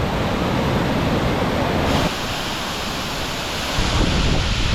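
Water runs off a hillside in the karst country of the Julian Alps, a loud, continuous broadband rush like a torrent, mixed with some wind noise on the microphone.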